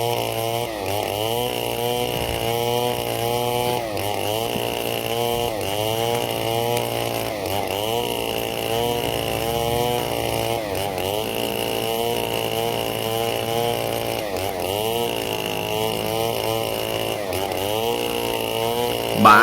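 An 8.5 horsepower gasoline chainsaw cuts through wood, its engine droning loud and steady throughout with rhythmic pitch dips as the chain bites in, recorded close up without speech.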